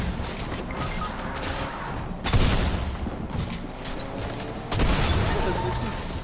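Shotgun fire in the video game Fortnite. Two loud, sudden blasts come a couple of seconds apart over a busy game soundscape, with voices talking underneath.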